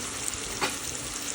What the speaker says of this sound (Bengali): এখন দিয়ে দিব এই যে কিউব করে কাটা পেঁয়াজ